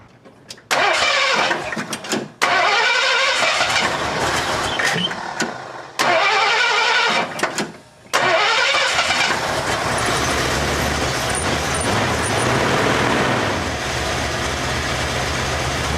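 A 1982 Ford F150 engine fitted with a stage 4 intake runs loud and close with an uneven, loping idle, broken at first by a few sharp revving bursts before it settles into a steady rough rumble.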